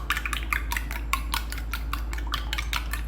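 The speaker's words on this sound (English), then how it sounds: "Beat the egg and" An egg is beaten in a bowl for burger bun dough, a quick run of rapid clicking and tapping strokes against the bowl, fairly close and steady over a few seconds.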